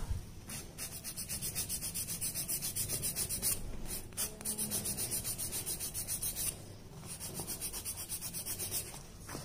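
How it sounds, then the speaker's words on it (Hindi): A puffy brush blending acrylic on a fake nail makes soft, close, rhythmic rubbing strokes in a fast, even back-and-forth pattern, with one short pause partway through. "again I am using पूफी brush"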